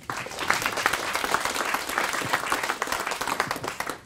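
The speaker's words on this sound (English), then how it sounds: "let's give him a hand of applause for his 10 minutes" An audience at a talk on the future of money applauds a speaker, a dense, continuous wash of clapping from many hands, moderately loud and unbroken for several seconds with no talking.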